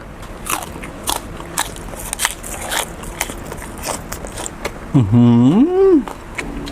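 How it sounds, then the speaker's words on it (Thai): Close, crisp biting and crunchy chewing of homemade snakehead fish tom yum soup with dill, the sharp bites repeated in bursts, then a loud voiced hum of approval near the end. "กินซะเลย"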